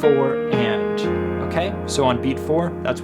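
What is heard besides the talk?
None of the usual background noises is heard.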